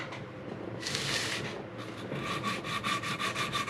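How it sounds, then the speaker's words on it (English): Sandpaper taped to a broomstick rubs along the edges of a wooden guitar body, first in one long rasping pass and then in a quick run of short rhythmic strokes, close and fairly quiet. "taken a piece of like a broomstick, sort of taped sandpaper to it so I can get these edges"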